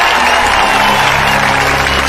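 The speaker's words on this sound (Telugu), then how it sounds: "చప్పట్లు" Steady applause from a film audience, dense and continuous throughout with a broad wash of crowd noise and no voices standing out.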